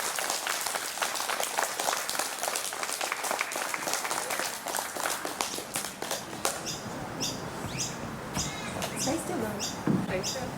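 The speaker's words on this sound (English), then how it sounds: "Can we please give our KM award recipients a big round of applause?" An audience at a school presentation day assembly applauds award recipients, sustained clapping from a crowd that thins slightly toward the end, moderately distant in a hall.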